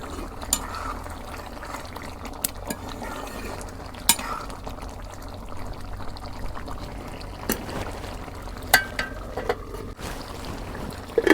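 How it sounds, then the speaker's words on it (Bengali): Liquid is poured into a pot of beef curry as it cooks, giving a steady low wash of pouring and bubbling with a few sharp clinks of a utensil, no voices. "তো এখানে আমি ঝোলে পানি দিয়ে দিই"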